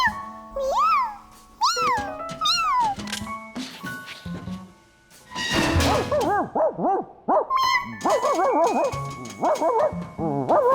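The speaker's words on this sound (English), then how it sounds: "The bark stopped." Cartoon dog barking in a children's animated programme: several bursts of sharp, yelping barks and whimpers, close and loud, broken by short pauses and a rumbling thud.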